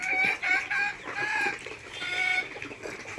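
A layer rooster among other poultry at a market gives loud, close clucks and crowing calls in repeated bursts, with a busy background of other birds.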